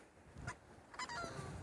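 Ducks and swans at Laguna Mar Chiquita in Miramar de Ansenuza, giving a few faint honking calls at a distance over quiet outdoor background.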